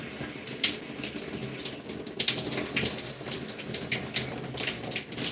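Hot water gushes from a tap, a continuous splashing rush that fluctuates in intensity, close and fairly loud with no talk over it.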